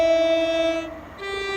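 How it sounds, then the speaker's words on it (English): A passing Class 380 electric train sounds its two-tone horn, loud and close, one steady tone sliding down to a lower note over a constant rumble. "Thanks for the horn. That was loud."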